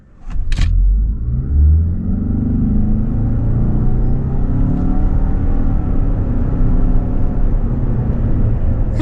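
A 2025 Toyota RAV4 SE plug-in hybrid pulls away from a stop, its engine and road rumble rising into a steady, loud drone with a faint whine. A couple of brief clicks come near the start.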